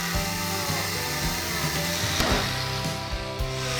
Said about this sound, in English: use an angle grinder to cut the rod to the desired length